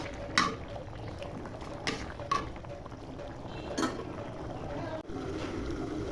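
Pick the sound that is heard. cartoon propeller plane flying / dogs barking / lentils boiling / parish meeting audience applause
lentils boiling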